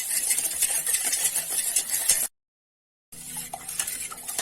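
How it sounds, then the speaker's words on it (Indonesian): Coconut milk, sugar and salt stirred together in a pot until the sugar dissolves, a steady close scraping swirl that runs continuously, stops briefly in silence, then resumes. "Ini kita aduk sampai gulanya larut"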